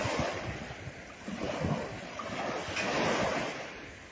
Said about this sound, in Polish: przyjechać nad morze. Jeszcze jest zimno, co prawda. Wieje i jest chłodno